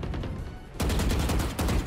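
Gunfire in the video game Valorant, a fairly faint duller stretch followed by a loud dense burst of automatic shots with a brief dip near the end, no talking.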